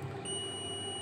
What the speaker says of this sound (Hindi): एक तरफ से हमने जब रखा रेड प्रोब को कैपेसिटर के एक टर्मिनल पे, तो देखिए बीप दे रहा है।